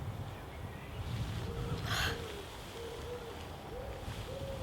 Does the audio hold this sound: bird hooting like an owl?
yes